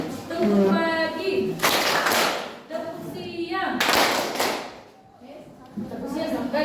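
A school class performs a rhythmic clapping routine, with bursts of unison claps alternating with chanting voices in a repeating pattern, fairly close and lively.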